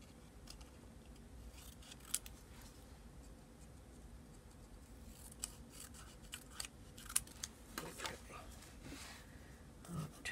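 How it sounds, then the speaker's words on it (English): Scissors trimming paper for a calendar craft, heard as faint, scattered snips and small paper rustles over a low background hum, close but quiet, with no talking. "Gotta trim it down."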